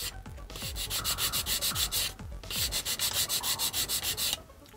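Sandpaper of 220 grit rubs back and forth over a seam line on a 1/60 Perfect Grade Gundam plastic model kit, a steady, close, rhythmic scratching in quick strokes with a brief pause, and no talk.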